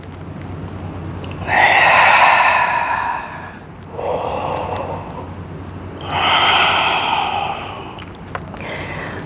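Deep, audible yoga breaths during a vinyasa warrior flow, alternating long exhales and inhales in a slow, steady rhythm, about four close, breathy whooshes over a low background hum with no talking.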